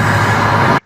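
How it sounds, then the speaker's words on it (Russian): Steady broadband rumble of cars driving past outside a recording studio, a loud continuous wash of road noise lasting under a second and then cutting off abruptly. "Машины проезжают."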